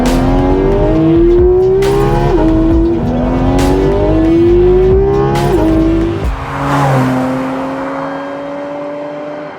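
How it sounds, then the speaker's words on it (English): A Porsche Cayman GT4 RS engine roars up through the revs close by, with several rising pulls broken by quick gear changes before the sound eases away at the end. "the car is too loud"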